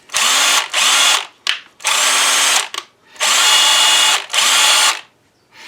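Hart 20-volt 1/4-inch impact driver spinning in repeated bursts, each trigger pull a loud buzzing whir rising in pitch, about six runs with short silent gaps, close up and without talk.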